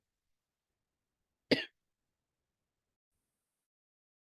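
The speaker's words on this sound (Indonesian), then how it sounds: "Maaf ya, saya batuk." A single short cough comes in the middle of near silence during a numerical integration lecture. It is close and fairly sharp, with nothing else around it.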